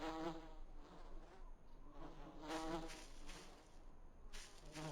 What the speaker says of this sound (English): Oh, it's just bees.